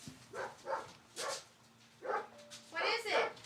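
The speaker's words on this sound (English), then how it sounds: "I just need to go see why Bear is barking now." Bear, a pet dog, barks several times indoors in short uneven bursts, fairly faint and off at a distance, over a steady low electrical hum with a voice faintly present.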